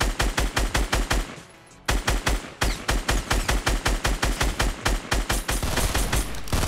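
Rapid automatic gunfire in Fortnite Battle Royale, loud steady bursts of closely spaced shots with a brief pause before firing resumes.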